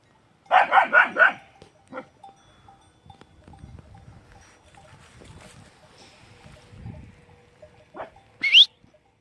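Kangal puppies and dogs scuffle: a quick series of four sharp barks up close, then a quieter stretch with faint knocks and one more yelp near the end.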